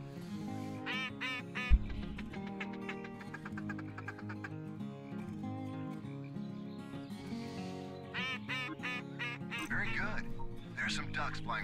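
Duck call blown repeatedly in Cabela's Outdoor Adventures 2010 during a Kansas duck hunt, a string of nasal quacks over steady game music, with someone talking across much of it.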